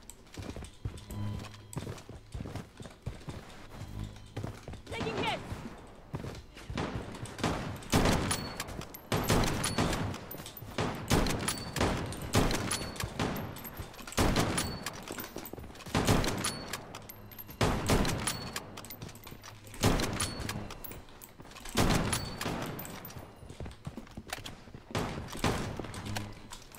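Rapid bursts of gunfire in the shooter game Bloodstrike, repeated volleys of shots at mid distance that rise and fall in dense clusters, with no talking.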